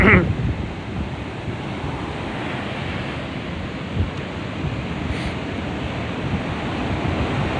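Choppy sea surf and gusting wind roar steadily on a windy day at the beach in Protaras, Cyprus, a continuous loud wash of waves with wind buffeting the microphone.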